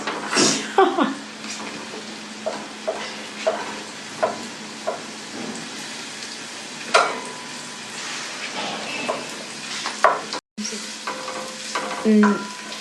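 Onion rings fry in a pan under a steady sizzle while a spoon scrapes and stirs in an irregular rhythm, giving sharp clinks and scrapes over about thirteen seconds with a brief gap near the end.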